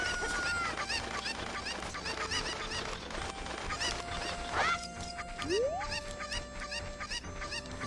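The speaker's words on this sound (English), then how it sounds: "all I'm doing is grabbing chickens" Cuckoo chickens cluck and squawk in the Japanese version of the video game The Legend of Zelda: Ocarina of Time, scattered fowl calls over game music with rising synth tones and no talking.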